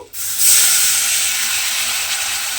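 Water splashed into spice masala in a hot pan for a vegetable curry, a sudden loud steam hiss and sizzle that bursts in and holds steady, close and continuous.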